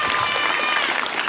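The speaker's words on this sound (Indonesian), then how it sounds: "Tepuk tangan kepada calon yang pertama." Students and teachers in a junior high school hall in Amlapura applaud the first candidate at a student council election final, a short burst of dense, steady clapping close to the microphone.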